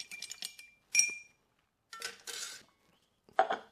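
A Paper Plane cocktail is stirred in a glass, giving a few brief, sharp clinks of a spoon against glass in separate bursts with quiet gaps between them.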